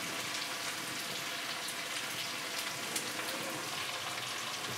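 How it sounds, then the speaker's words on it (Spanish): Steady, soft sizzling and crackling of onion frying in a pan, constant and close, with no voices. "La cebollita se está friendo, ¿no?"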